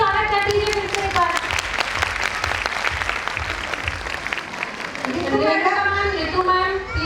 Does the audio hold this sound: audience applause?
yes